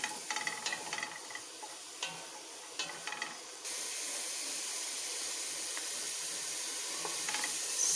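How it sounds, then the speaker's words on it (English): Onions sautéing in a pan give a soft, steady sizzle with faint clinks of stirring early on, then a fuller, louder hiss from about midway through to the end. "So I'll saute it till it's brown and translucent."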